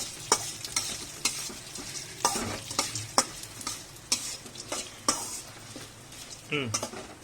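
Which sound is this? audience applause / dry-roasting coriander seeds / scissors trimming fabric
dry-roasting coriander seeds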